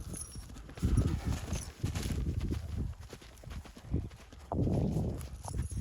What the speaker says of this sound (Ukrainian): Це наша кобила